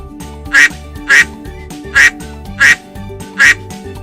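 A duck quacks five times in an even rhythm, loud and close, over a bouncy background melody.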